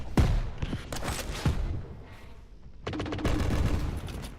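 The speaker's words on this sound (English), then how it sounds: "Racy spamming rockets" Rockets fired over and over in a Quake Champions duel: a quick cluster of loud, sharp blasts up front, a brief lull, then a denser run of explosive shots close to the listener.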